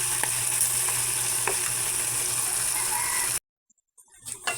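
Carrots and potatoes fry in a pan with a bright, loud sizzle and a few scraping stirs, then the sound cuts off abruptly to near silence before faint clattering returns.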